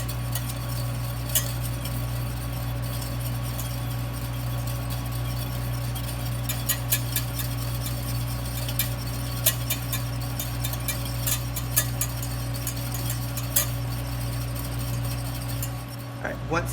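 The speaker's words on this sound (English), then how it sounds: "we're going to whisk this in until that butter is melted and it's smooth" A whisk stirs butter into a lemon pasta sauce in a pan, light metallic clicks and scrapes tapping irregularly over a steady background hum.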